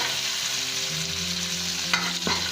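Minced pork with holy basil and banana blossom stir-fries in a hot pan, giving a close, steady sizzle with a scrape or two of the spatula near the end, with no talking.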